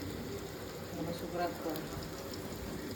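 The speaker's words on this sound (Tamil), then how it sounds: "அதனால தான் நான் வந்து தோசை பேனில் வறுக்கிறேன்" Fish frying in a little oil on a dosa pan, heard as a steady, close sizzle and crackle throughout, with a faint voice mixed in.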